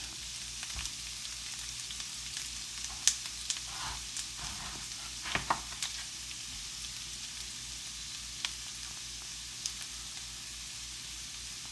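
Zucchini and other vegetables sauteing in a pan, a steady soft sizzle with occasional light clicks and stirring taps, fairly quiet and continuous with no talk.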